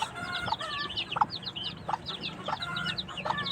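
Bantam chicken clucking repeatedly in short bursts, with chirpy bird calls and a steady low background murmur throughout, close and moderately loud.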